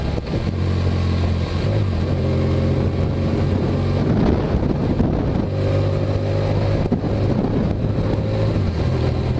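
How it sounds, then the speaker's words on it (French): Strong wind buffets the microphone in a constant roaring rush, with a droning motor underneath rising and falling in pitch. "On se prend des méga rafales de vent dans la tronche."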